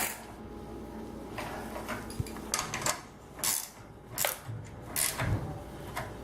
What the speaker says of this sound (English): you can go ahead and tighten down your axle nut